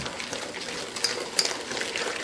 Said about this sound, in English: Just kind of mix this together.